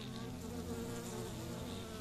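Bees buzz steadily in modded Minecraft, a dense continuous drone that holds even and close throughout with no pauses.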